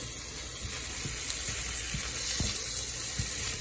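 Water pours steadily into a pot of seasoned rice being cooked for an Asian-style meat and chicken dish, a continuous rushing splash with faint sizzling and a few soft knocks underneath.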